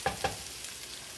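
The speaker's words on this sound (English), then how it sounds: "So while I'm waiting for my onions to cook" Onions fry in a pan for pork fried rice, a soft steady sizzle with two quick clinks of stirring at the start, close and fairly quiet.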